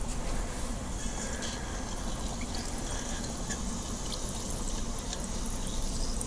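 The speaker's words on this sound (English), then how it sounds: "You can hear that wonderful fizzing." A bath bomb from a Kiss Naturals kit fizzes in water with a steady, dense hiss and crackle of bursting bubbles, close and even throughout, with no talking.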